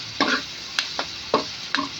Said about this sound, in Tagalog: Naluluto ang bawang, naluluto ang sibuyas,